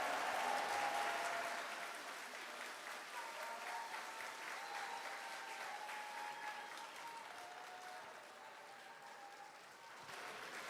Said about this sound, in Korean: 네, 여러분 뜨거운 박수 부탁드리겠습니다.